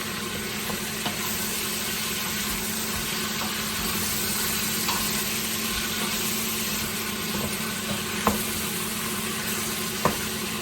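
Brisket stirred and seared in a pot, a continuous sizzle with scraping stir strokes and occasional sharp clinks of utensil on metal, close and steady with no speech.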